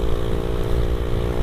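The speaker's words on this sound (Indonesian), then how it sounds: "Taunya ada motor dari depan." Motorcycle engine on a road at midnight in the Ponorogo border area between East and Central Java, a steady, loud buzzing drone heard close by for a short stretch.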